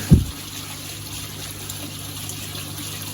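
Water trickles steadily from a shower filter on a koi pond as a constant, moderate hiss, opening with a brief dull thump.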